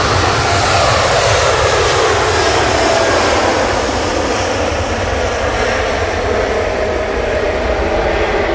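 A TUI airliner takes off at Manchester Airport, its engines producing a loud, steady roar that fills the whole span without any break and stays close and dominant, with no voices heard over it.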